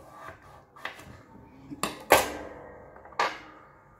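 A spoon stirring a crème fraîche and lemon juice face mask in a bowl, giving a handful of sharp, close clinks and taps spaced irregularly over quiet.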